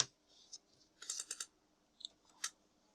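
Sheets of paper being stacked and set into the document feeder of an HP Scanjet 5590 scanner, a few short rustling, sliding and tapping bursts close by in a quiet room.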